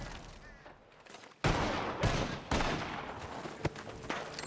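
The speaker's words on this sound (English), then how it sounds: "The gunshots are coming from that barn." Gunfire erupts from a barn in the Red Dead Redemption 2 game world: after a quiet stretch, a sudden loud volley of rapid, overlapping shots and blasts rings out, with sharp cracks continuing through the rest of the moment.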